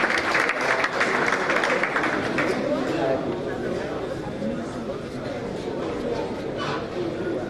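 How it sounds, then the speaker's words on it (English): Audience applause at a community meetup in Lagos welcoming a speaker, a steady dense wash of clapping with crowd noise and some voices mixed in, holding at an even level throughout. "A round of applause for Emeka"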